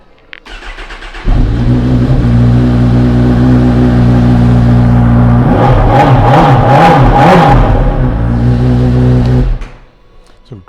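A 2019 Honda CB1000R Plus ABS motorcycle with a Hurric end can fires up close and loud, idles with a deep steady rumble, gets a burst of sharp revs, then shuts off.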